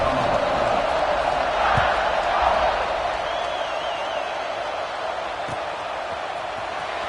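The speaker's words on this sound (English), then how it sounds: "this crowd now ready to get behind them." A large stadium crowd in the NCAA 26 college football video game roars steadily, a dense wash of cheering that holds throughout, with a faint whistle-like tone partway through.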